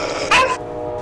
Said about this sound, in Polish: Cicho, pies.